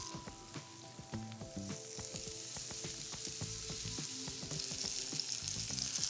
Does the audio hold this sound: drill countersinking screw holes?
no